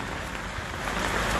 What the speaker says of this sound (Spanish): sigue lloviendo